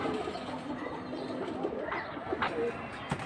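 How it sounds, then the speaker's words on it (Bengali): Young pigeons in a crowded loft give soft coos and short calls over a dense, steady background of birds, with a few sharper calls standing out near the end. "মাত্র বাচ্চা কবুতর।"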